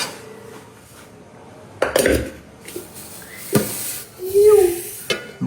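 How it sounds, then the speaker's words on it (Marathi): Peanut amti cooking in pots in a home kitchen, heard as intermittent clanks of pots and utensils with stirring and a faint sizzle, moderately close with no talking. "तेवढ्याच वेळात आपण आता करतोय शेंगदाण्याची आमटी"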